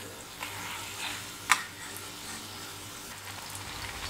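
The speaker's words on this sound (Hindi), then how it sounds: "बस ये हल्के गोल्डन ब्राउन हो जाए तब तक फ्राई करना है।" Bread slices for shahi tukda fry in oil with a soft, continuous sizzle and bubbling, plus one sharp clink partway through; the sound is close, even and fairly quiet, with no talking.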